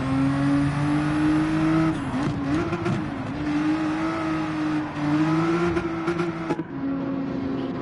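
A Gran Turismo 7 race car drones steadily at speed while pulling into the pits, its engine holding a sustained tone with a brief dip and shift in pitch partway through before settling back to a steady whine.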